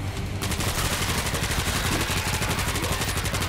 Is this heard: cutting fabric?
no